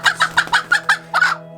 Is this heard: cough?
no